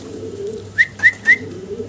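Desi golla pigeons, also called rasgolla pigeons, give three quick, sharp calls in a row over a low, steady murmur of cooing, close and fairly clear with no talk.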